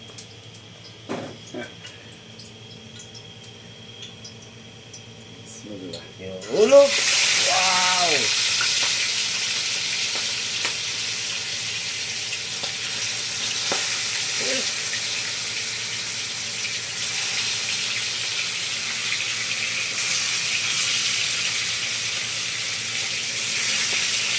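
Carp fish laid into hot oil bursts into a loud, sustained sizzle after a quieter opening with a brief voice and clatter, the frying crackle holding steady to the end.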